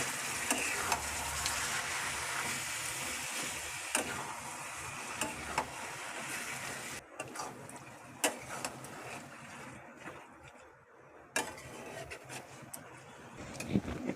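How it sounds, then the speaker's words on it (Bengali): Watermelon and fish head curry is stirred in a pan with its own cooking water, a soft sizzle with scraping and clinking strokes that grows quieter and more intermittent halfway through. "এইবার এটাকে খুব ভালো করে নেড়ে দিতে হবে।"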